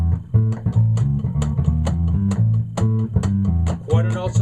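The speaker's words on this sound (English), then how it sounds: "So quarters on the hi-hat, 2 and 4 on the snare, cymbal is a right hand" Drum kit groove with quarter notes on the hi-hat, snare on beats two and four and a cymbal, played along to a backing musical track; steady, loud, evenly spaced hits throughout.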